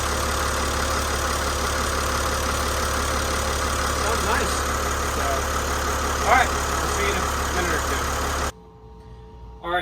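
A repaired six-cylinder engine with new bushings, its oil leak fixed, idles steadily and smoothly at close range for most of the stretch, a constant low running drone, then cuts out abruptly near the end.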